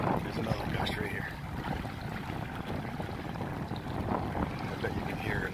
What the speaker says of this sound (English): Yeah, so that's the wind.